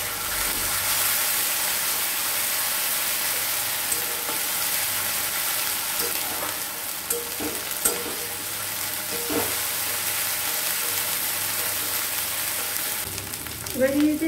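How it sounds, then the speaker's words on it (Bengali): Ginger and garlic paste fry with browned onion in a pan for chicken curry, a broad steady sizzle with occasional stirring clinks and scrapes, close and continuous, ending in a brief louder clatter. "আদা বাটা, রসুন বাটা"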